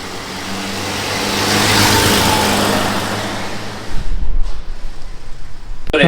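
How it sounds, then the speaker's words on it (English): Cars climbing a hill climb course at a festival in Newport, Indiana, approach with a steady broadband engine and road roar that swells, then grows louder and rougher near the end as a car passes close by. "So it's a different perspective of the cars coming at you."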